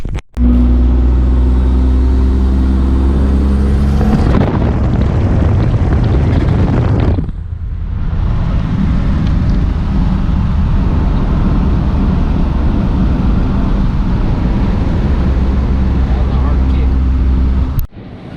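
A loud truck being driven, with a steady, heavy engine roar and low rumble filling the whole stretch, easing briefly once before building again; no talk over it.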